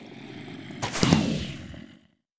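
A crossbow in Minecraft fires a firework rocket: one sudden whooshing burst that swells, holds for about a second, then dies away, loud and alone over a faint background hum.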